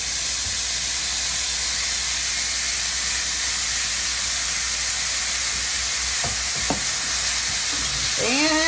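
Diced red pepper and onion sizzle and hiss steadily in a hot pan for jambalaya, a dense continuous fry with a few brief stirring scrapes near the end.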